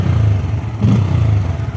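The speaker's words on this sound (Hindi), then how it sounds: "मुझे तो बहुत अच्छा साउंड लगता है इस बाइक का।" Bajaj Pulsar N160 motorcycle with a 160cc two-valve engine, heard up close as a steady low idle thrum with a slight blip near the middle.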